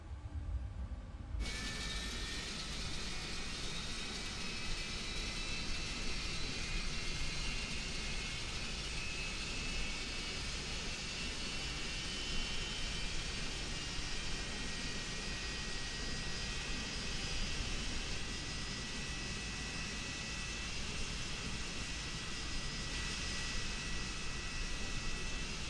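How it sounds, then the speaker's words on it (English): PMDG 777-200ER jet engine starting up in Microsoft Flight Simulator: a steady, broad turbine roar with a thin rising whine holds evenly for nearly half a minute, quiet and alone. "enjoy the engine start"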